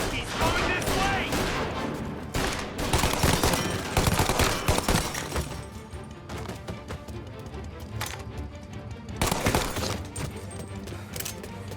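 Rifle gunfire in Mafia Definitive Edition: dense, rapid volleys of shots crackling loudly and continuously, with bursts swelling and easing over the stretch amid battle noise.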